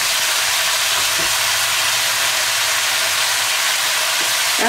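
Prawns stir-fried in a wok with onion, celery and a spoonful of sugar: a loud, steady, close sizzling hiss that continues throughout, with faint tossing sounds underneath.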